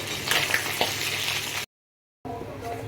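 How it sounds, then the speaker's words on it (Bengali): Loud crackling sizzle of a fish head frying in a pan with a few stirring scrapes, cut off by a brief silence, then quieter frying resumes. "এই যে মাছের মাথা ভাজা হয়ে গেছে"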